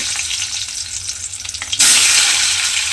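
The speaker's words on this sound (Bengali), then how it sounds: "সেই আলুগুলো তেলের মধ্যে দিয়ে আলুগুলোও কিন্তু আমি একটু ভেজে নেব।" Parboiled potatoes dropped into hot oil in a pan, a steady hiss turning abruptly into a loud, bright sizzle that fills the rest of the moment, with no talk.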